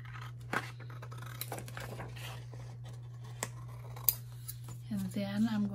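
Scissors trim paper for a junk journal pocket, giving a series of short, crisp snips over a steady low hum, with soft paper rustling near the end.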